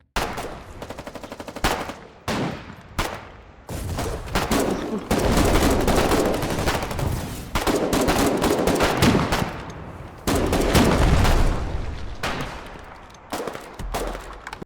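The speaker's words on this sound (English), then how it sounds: "Because I'm using the Sampo auto rifle, I can use the automatic mode to shoot at the colonials that are going to be close on me." Sampo auto rifle firing in automatic mode in the war game Foxhole, with sustained loud bursts of rapid gunfire broken by short pauses and a few single shots, close and continuous across the scene.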